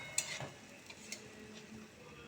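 Spices and dried red chillies frying in oil until reddened, a faint, soft sizzle with a few light stirring taps, heard up close and alone.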